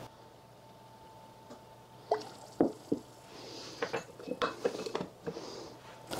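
A spoon stirs vanilla into a pot of sweet cinnamon syrup with cinnamon sticks, clinking against the pan in a run of light irregular taps and scrapes that grows busier after a quiet start; no one speaks.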